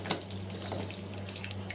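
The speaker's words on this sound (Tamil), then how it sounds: "அந்த இறாலை இப்போ போட்டுக்கிறேன்" Prawns dropped into a hot pan for a Malaysian-style dish sizzle and spit steadily, with small clicks and a low kitchen hum underneath.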